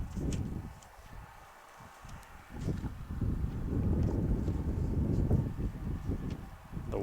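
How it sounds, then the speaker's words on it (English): Wind blows across a soccer field at a training facility during a match, a low, buffeting rumble that swells and eases in gusts, with faint distant activity. "The wind starting to blow across this field here at the training facility."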